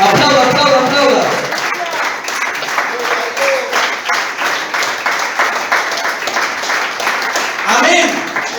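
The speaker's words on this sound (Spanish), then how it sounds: "Aplauda, aplauda, aplauda." A church congregation claps together in a loud, rhythmic applause that lasts for several seconds, with a preacher's voice heard at the start and end.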